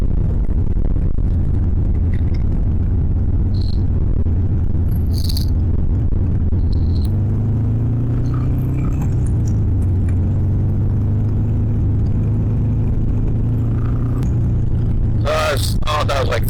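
A Harley Sportster motorcycle engine drones steadily while riding, a low continuous rumble with wind noise and a shift in pitch midway, with a person talking over it throughout.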